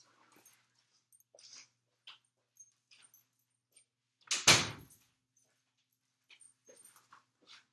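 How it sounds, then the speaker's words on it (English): A dog whimpers in short, faint bursts on and off, while a door shuts with one loud, close thud partway through the clip. "Let me shut my door. Because Woody is screaming"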